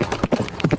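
Cartoon horse hooves clip-clopping in a quick, close, uneven patter of about half a dozen hollow knocks, loud and alone in a short burst.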